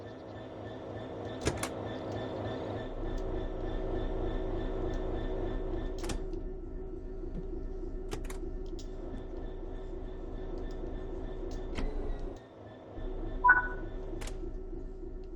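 A locomotive couples to wagons in a train simulator video game. A steady low engine rumble runs throughout, broken by several sharp metallic clanks and knocks. A brief drop in the rumble is followed by a louder clunk near the end.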